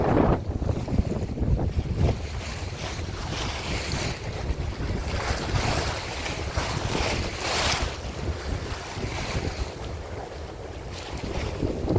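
A sailboat heeling through choppy sea in strong wind, waves slapping and rushing along the hull under heavy wind buffeting on the microphone, steady and loud for the whole stretch with no talking.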